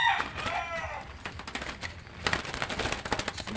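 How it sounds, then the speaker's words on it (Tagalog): Gamefowl roosters kept in training crow and cluck from nearby, with a drawn-out call near the start and then scattered clucks over a busy outdoor background. "Ito mga birds."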